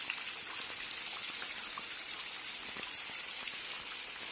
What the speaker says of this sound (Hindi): ये पानी, ये देखिए पानी आप